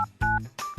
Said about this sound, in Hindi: अब मैं करता हूँ लड़के को कॉल